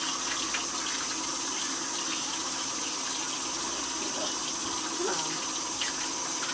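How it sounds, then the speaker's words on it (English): Tap water runs steadily in a kitchen sink while a child washes something during dinner preparation, a broad continuous hiss under faint household noise. "No, once you wash it, you gotta give it to Sissy"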